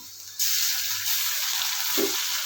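Poppy seed paste goes into onions frying in a pan for a duck egg curry, setting off a loud, steady sizzle that jumps up abruptly and holds for a couple of seconds, with a brief low clunk of stirring near the end.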